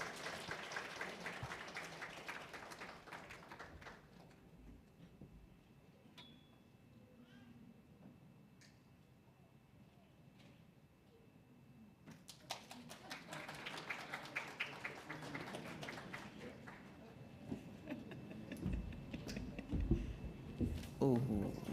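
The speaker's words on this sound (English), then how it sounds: "Oh, you have been too stingy with your applause." A summit audience gives a round of applause, clapping rising and falling in two swells with a quieter gap between, fairly distant, with some voices mixed in.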